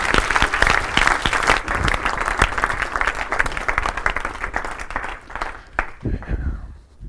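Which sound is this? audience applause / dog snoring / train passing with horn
audience applause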